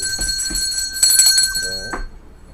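A bell rings out as a sound effect on a news broadcast, a bright sustained metallic tone with lingering overtones, loud and close, struck strongly in the middle and ending with a short rising swoop.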